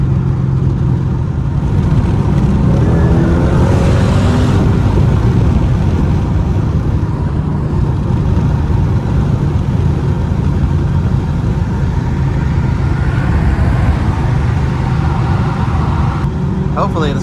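A Mercedes W211 E55 AMG with a V8 engine is driven on the road, its exhaust and engine forming a continuous, fairly loud rumbling drone that swells and eases slightly over the run.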